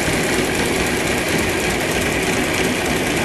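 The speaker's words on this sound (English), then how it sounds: "Got a little tiny motor over here running." A tiny electric motor in a homemade over-unity device runs close by, giving a steady, dense, unbroken whirring hum with no pauses.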